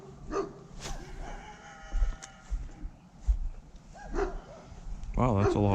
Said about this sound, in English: that's a lot of dogs barking at me